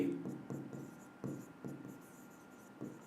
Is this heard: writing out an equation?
yes